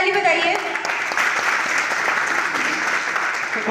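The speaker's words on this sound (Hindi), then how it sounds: "एक बार सभी गुरुओं के सम्मान में जोरदार ताली बजाइए" A hall audience applauding loudly in honour of the gurus at a business gathering, a dense sustained wash of clapping with a voice briefly heard at the start.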